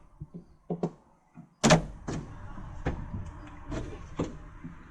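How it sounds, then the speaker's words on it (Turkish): A camper van's trunk being opened: a few light clicks and handling knocks, then a sharp latch clunk and the lid swinging up, followed by scattered thuds and rattles nearby. "Açalım abi bagajımızı"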